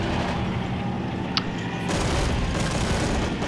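MG42 machine gun firing on infantry in Men of War, a steady rattle of bursts behind a dense wash of battlefield noise, with a single sharper crack standing out midway.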